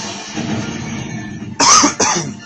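A couple of harsh coughs burst out close by, one loud and a shorter one right after, following a stretch of low background rumble.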